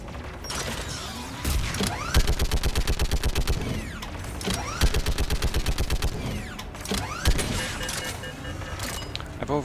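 Turret gunfire in the video game Mass Effect 3: loud rapid-fire bursts repeat in steady rhythmic volleys over a whirring mechanical hum, with brief pauses between strings of shots.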